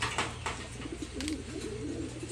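Racing pigeons coo softly in a loft, a faint run of low, rolling calls against quiet background hum with light clicks and rustles.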